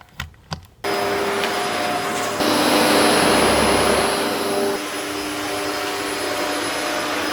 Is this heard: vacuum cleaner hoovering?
yes